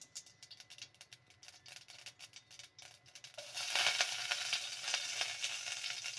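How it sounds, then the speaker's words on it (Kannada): Mustard seeds and curry leaves dropped into hot tempering oil for a chutney, starting with scattered crackling pops, then swelling into a loud continuous sizzle, close and with no talking. "ಸಾಸಿವೆ ಕರಿಬೇವು ಹಾಕಿ ಒಗ್ಗರಣೆ ಕೊಡಬೇಕು"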